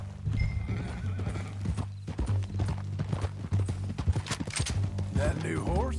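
Horse hooves clip-clop steadily while a horse whinnies in Red Dead Redemption, with people talking over the hoofbeats throughout.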